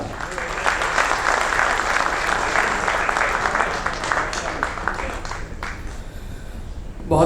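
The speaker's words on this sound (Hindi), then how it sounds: "आप जोरदार तालियों के साथ इस्तकबाल करें" Loud, sustained audience applause at a Jashn-e-Urdu mushaira in Dubai, welcoming poet Varun Anand from Ludhiana, Punjab; dense clapping from a large hall crowd fills the whole stretch, tapering slightly near the end.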